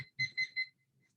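A fitness timer set to 20 seconds going off with three quick, bright electronic beeps in a row, then quiet.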